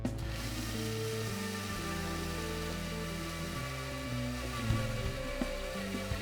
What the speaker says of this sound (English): I'm just gonna go ahead and grind this up into a powder.